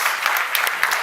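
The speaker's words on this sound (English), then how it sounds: "So I would ask for one more round of applause for them." Audience at the close of a climate action and finance conference breaking into applause: a dense, continuous wash of clapping hands from many people, brief and moderately loud, with no talking.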